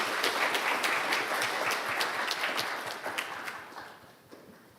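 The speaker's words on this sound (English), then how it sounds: "Please give him a big round of applause as he returns to his seat." An award ceremony audience gives a big round of applause as the honoree returns to his seat, dense clapping that starts strong and gradually fades out.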